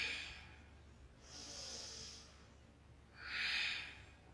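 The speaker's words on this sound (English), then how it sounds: "Long breath out." Two long, breathy exhales at rest during a yoga session, each a soft hissing rush of air lasting about a second, close and quiet with a pause between them.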